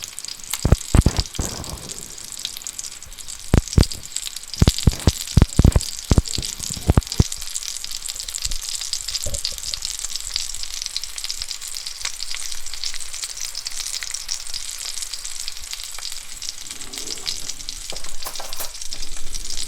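A masala paste for chicken curry sizzles and fries steadily in a pan, with a run of sharp stirring clatters early on and then a constant frying hiss.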